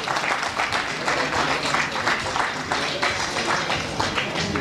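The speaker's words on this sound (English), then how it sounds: "Let us give them another warm round of applause as they take their seats." A Rotary Club audience gives warm applause as guests take their seats, a full, continuous wash of many hands clapping together, loud and even throughout without talk on top.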